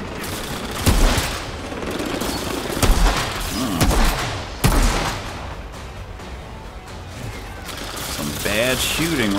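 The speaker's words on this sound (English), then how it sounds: "Some bad shooting right there." Dense gunfire from the Outriders demo played as the Technomancer, with bursts and sharp shots crackling throughout and heavier impacts punctuating the mix, a voice briefly speaking near the end.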